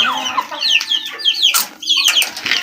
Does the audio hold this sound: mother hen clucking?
yes